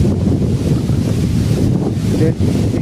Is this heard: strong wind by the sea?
yes